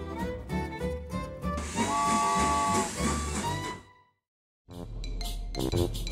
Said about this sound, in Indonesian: Kereta api huruf mahu bergerak.